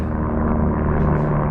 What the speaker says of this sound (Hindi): ये जा रहा है हेलीकॉप्टर